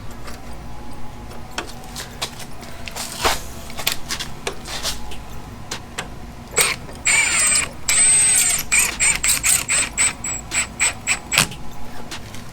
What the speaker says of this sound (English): Okay, now I'm going to get my screws started back in.